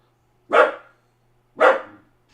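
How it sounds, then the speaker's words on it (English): Max the dog barks twice, loud and close, with a pause of about a second between the sharp single woofs against an otherwise quiet room. "Max is barking at something."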